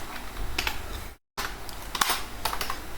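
Computer keyboard keys clattering in quick irregular bursts while Python code is typed, close and steady, broken by a brief silent gap.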